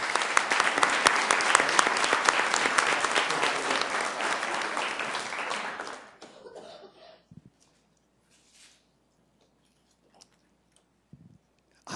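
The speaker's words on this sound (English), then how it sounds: "Let's give them a round of applause" A council meeting audience gives a round of applause, dense clapping that holds for about six seconds then fades out, followed by a quiet room with a few scattered coughs and small noises.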